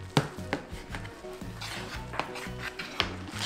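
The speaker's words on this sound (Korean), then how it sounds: "이렇게 해서 좀 식혀서 썰어줄게요" A knife wrapped in plastic wrap and greased with sesame oil slices through cooled Korean yakbap, a sticky sweet rice cake, giving a string of close, soft thuds and scrapes on a board at an uneven pace with no talking.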